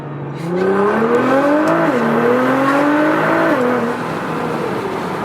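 A Nissan GT-R drives fast on freshly changed oil, its engine revving loudly and climbing in pitch, dipping briefly at a shift, then climbing again before easing off, heard from inside the car.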